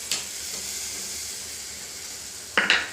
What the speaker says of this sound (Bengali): এই যে তেল ছেড়ে এসেছে, এবার আমি সর্ষে বাটাটা দিলাম।